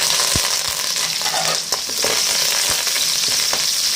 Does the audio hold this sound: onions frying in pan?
yes